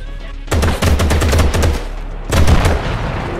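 Rapid gunfire from the Gangstar New Orleans video game, two close, loud bursts of fast repeated shots separated by a short pause.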